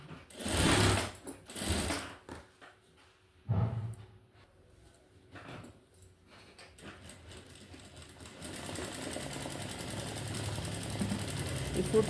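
A sewing machine stitches a sleeve with its presser foot raised slightly, running in several loud bursts early on and then a steady, continuous whirr for the last few seconds.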